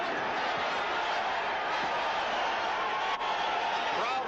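A boxing arena crowd roars in response to a punch combination during the Larry Holmes versus Carl Williams fight, a steady, muffled wash of noise from far away under commentary.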